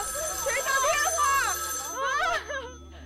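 A mobile phone ringtone plays on a dark set during a murder-mystery game show, its steady electronic tones sounding for about two seconds beneath anxious, overlapping voices and a rising shriek.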